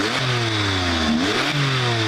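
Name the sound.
sports car engine revving, 3.6 litre 480 horsepower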